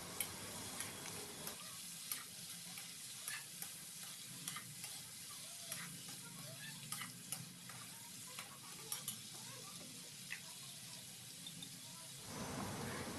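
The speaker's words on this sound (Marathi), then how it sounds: "गंगाफळ हे हलवून घ्यायचं आहे" Pumpkin pieces cooking in a pan for a Marathi bhaji are stirred with a spoon, giving a soft, quiet sizzle broken by irregular clicks and scrapes over about twelve seconds, with no speech.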